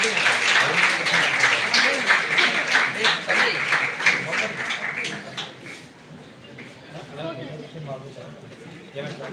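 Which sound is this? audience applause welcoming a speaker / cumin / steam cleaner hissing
audience applause welcoming a speaker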